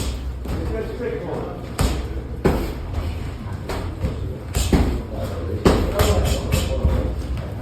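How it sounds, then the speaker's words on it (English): Punches land on a heavy bag during a fight training session, a series of loud, close thuds and slaps with irregular spacing and a steady room noise underneath. "Start off with hitting the bag."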